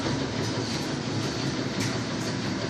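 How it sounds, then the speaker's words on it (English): Puma 60-gallon, 5 horsepower air compressor running steadily, a loud continuous mechanical rumble and rattle with no pauses, heard alone. "Compressor working real good."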